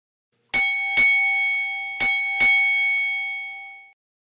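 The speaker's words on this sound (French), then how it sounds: "Il lui donne même une cloche qu'il peut faire teinter s'il est trop inquiet." A small hand bell rings four times in two quick pairs, each bright metallic strike leaving a clear, sustained ring that fades slowly in a quiet room.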